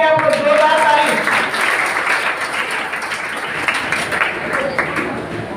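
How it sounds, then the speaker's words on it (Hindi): Steady applause from a crowd at a coaching class award ceremony, loud and continuous throughout with a voice speaking over it in Hindi. "ताली बजाएंगे आप लोग, जोरदार ताली।"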